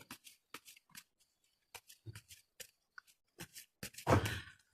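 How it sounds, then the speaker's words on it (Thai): Tarot cards are handled and split into two piles as a series of soft, close paper flicks and taps, ending in a brief louder riffle as the deck is divided. "แม่หมอแบ่งไพ่ออกเป็นสองชุดนะ"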